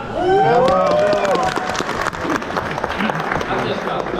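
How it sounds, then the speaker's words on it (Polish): An audience at a company party breaks into applause for a woman called to the front, a dense spread of clapping that starts under a voice and continues steadily to the end. "dajcie Agnieszce wielkie brawa!"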